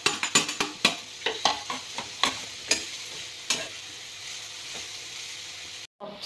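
Onions and tomato fry in coconut oil with a steady sizzle, while a spoon scrapes and clinks against the pan in quick, close strokes.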